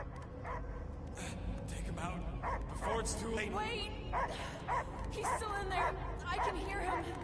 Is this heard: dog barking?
yes